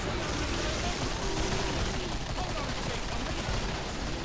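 Gunfire in the video game Killing Floor, a dense continuous barrage of rapid shots and blasts at close range, loud and unbroken across the whole stretch.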